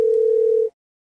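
A telephone call connecting tone: one steady, clear electronic beep held for under a second, then cut off into silence.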